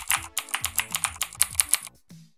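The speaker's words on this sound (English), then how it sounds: "Cherry MX Blues PBT." Rapid typing on a mechanical keyboard with Cherry MX Blue switches and PBT keycaps, about a dozen crisp, clicky keystrokes in a quick, uneven rhythm, close and clear, ending with a brief pause.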